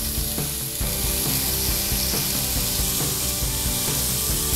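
Bacon frying in olive oil for a sofrito, a dense close sizzle and crackle broken by irregular clicky scraping knocks, with no voices.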